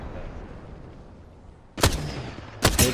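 Two sharp, loud blasts of a grenade explosion in the video game Apex Legends, the second coming about a second after the first, each with a booming tail over steady low game ambience.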